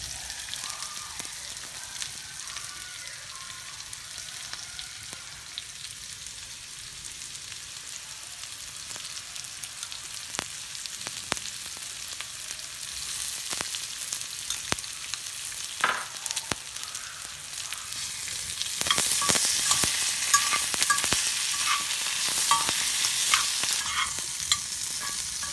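Boiled potatoes with turmeric sizzle steadily in a pan for a Nepalese dish. Repeated stirring scrapes and clicks run through the frying, which grows louder and more crackly toward the end, with no speech.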